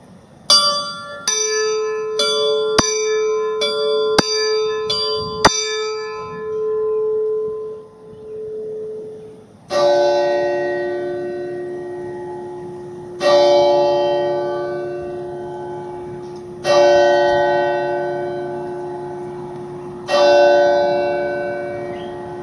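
Quarterjack figures on the clock at Wimborne Minster strike bells at 4pm: a quick run of bright metallic dings, then four slow, loud, resonant bell strokes, each ringing out and decaying before the next.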